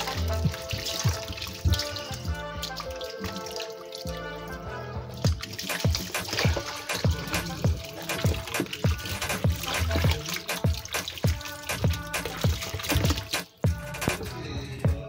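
Running tap water splashes steadily into a kitchen sink as something is rinsed, with continuous trickling and clattering over a long stretch, no talk.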